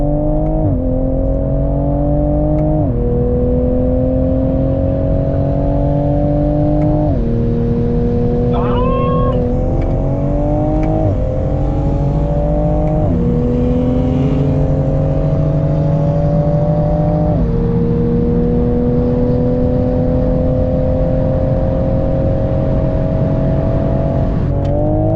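A Toyota Supra accelerates hard while racing, its engine climbing through repeated upshifts with a loud, close, sustained drone.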